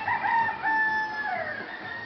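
A rooster crows once outdoors, a clear drawn-out cock-a-doodle-doo of rising then falling tone, moderately loud over faint background ambience.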